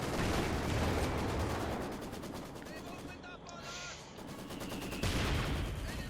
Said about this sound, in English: Mortars just keep blasting away